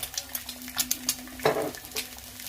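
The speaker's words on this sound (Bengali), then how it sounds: "ফ্রাই প্যানের মধ্যে যে কোনো একটার মধ্যে একটু তেল দিয়ে একটা ডিম ফাটিয়ে ছেড়ে দিতে হবে" An egg cracked into a little oil in a frying pan crackles and spits in a brief close burst, with scattered clicks and a louder flare of sizzle midway.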